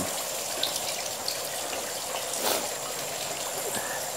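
Tap water runs in a thin, steady trickle at a catfish (hito) breeding setup, a soft continuous splashing heard close by, with no talk over it.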